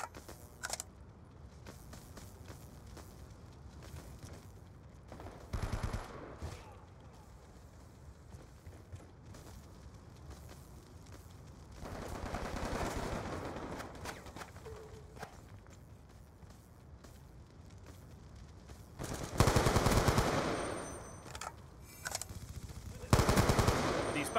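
Automatic gunfire in the multiplayer capture-the-flag shooter Call of Duty: Black Ops II, with bursts of machine-gun fire near and far, scattered shots and footsteps. Announcer voices sound in between.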